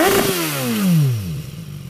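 BMW S1000XR motorcycle on its stock exhaust, one sharp rev that rises to a high pitch then falls away, loud and close, followed by a rough idle.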